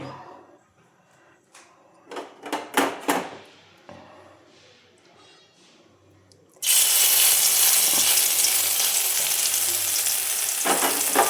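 Oil heats in a hot kadai for frying poppy-seed fritters: a few soft knocks and clatters, then a sudden loud, steady sizzle that stays strong to the end.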